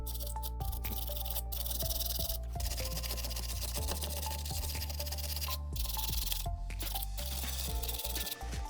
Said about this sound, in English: I'm just going to get myself a little steel wire brush, just go over these, not too hard, just want to see how bad the corrosion is